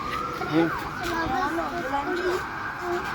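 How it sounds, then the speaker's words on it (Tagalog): An ambulance siren wails with rising and falling tones near a fire in Valenzuela City, Philippines, fairly close, while people talk over it. "Dito nang gagaling ambulansya eh."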